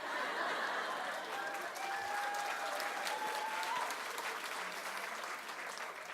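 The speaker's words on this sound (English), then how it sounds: "you can applaud, it's okay" Steady, dense applause from an audience at a lecture, a continuous wash of many hands clapping at moderate distance, fairly soft and even throughout with faint crowd murmur beneath.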